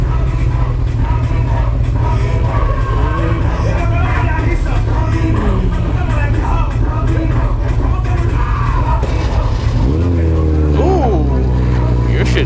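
A dirt bike engine rattles and drones steadily while being ridden at night through New York City streets, loud and continuous with shifting revs, rising sharply near the end.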